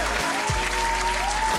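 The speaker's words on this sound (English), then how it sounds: "Clap it up for everybody on the check-in" Applause at a live morning talk show, a dense wash of clapping with a steady low hum and a faint sustained tone running underneath.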